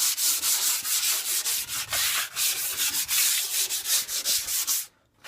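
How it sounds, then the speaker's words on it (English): A wooden door being sanded by hand: steady, close, loud back-and-forth scrubbing strokes in a continuous rhythm, breaking off briefly just before the end. "I'm going to sand this door"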